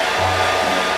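A hair dryer blowing on a face mask during a full-body face mask challenge, a loud, steady, close-up rushing drone that holds without a break and with no voices.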